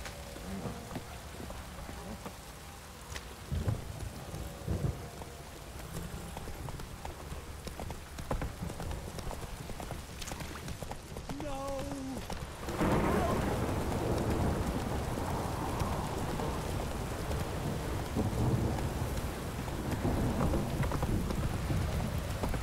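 Roach, Geralt's horse in the Witcher 3 video game, clops along through steady rain, hooves thudding under the hiss of falling water, with thunder-like rumbles and the rain swelling louder midway.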